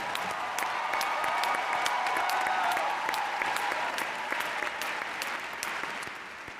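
Sustained audience applause fills a conference hall at the Women Deliver 2023 opening ceremony for Shabana Basij-Rasik, founder of the School of Leadership, Afghanistan; dense, steady clapping that tapers slightly toward the end.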